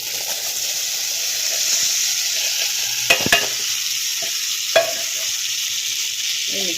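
Boiled chickpeas and green gram being mixed with spices in a pan, a steady soft hiss with a few sharp clinks and scrapes of a spoon against the vessel, no talking.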